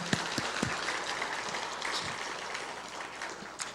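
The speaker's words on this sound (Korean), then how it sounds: "박수로 축복하겠어요." A church congregation at a Sunday service claps together in steady, fairly soft applause, with a few sharper claps standing out near the start and end.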